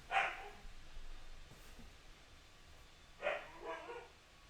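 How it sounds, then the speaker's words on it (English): Husky dogs bark from another part of a room, two brief yelping barks separated by a few seconds of quiet, faint and somewhat distant, with no talking. "Sorry if you guys hear my dogs in the background."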